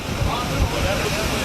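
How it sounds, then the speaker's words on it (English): Steady 20-mile-an-hour south wind blowing outdoors in humid Oklahoma City, a continuous broadband rush with low rumbling buffets against the microphone, constant in level throughout. "this steady 20-mile-an-hour wind coming out of the south"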